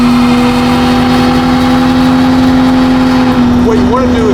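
A car held in a burnout with its engine revving hard, a loud, steady, sustained roar with a droning tone throughout and a slight wavering near the end.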